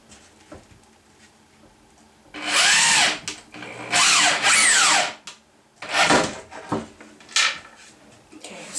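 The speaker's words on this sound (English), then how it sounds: "So that means I can just go ahead and take my drill and put them directly in." Power drill driving screws into a DIY vanity and makeup storage unit, several loud whirring bursts of a second or so each, the motor pitch rising and falling as screws bite into the wood.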